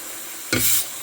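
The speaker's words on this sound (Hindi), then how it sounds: "मैंने मसाले में देखें आलू डाल दिए हैं और अब मैं इन आलूओं को थोड़ा भूनूंगी" Potatoes hitting hot oil and spices in a pan, a sudden brief loud sizzle burst lasting under half a second, then fading to a low hiss.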